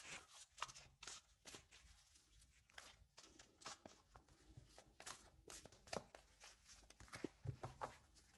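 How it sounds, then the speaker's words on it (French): A deck of oracle cards shuffled close up and fairly quietly, soft, irregular riffling and sliding bursts repeating for several seconds. "je vais faire un autre tirage, un autre tirage avec ce jeu-ci."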